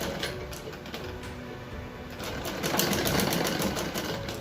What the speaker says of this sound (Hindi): अब पाइपिंग की मैं सिलाई लगा दूंगी यहीं पे